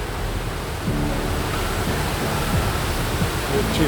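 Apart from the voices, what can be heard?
water rushing over a weir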